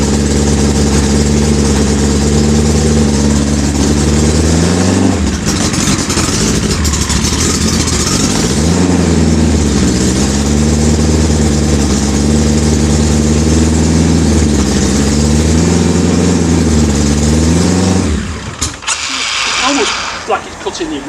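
Car engine idling steadily just after a cold start, a loud continuous low drone with a slight rhythmic waver in pitch, then cutting out near the end.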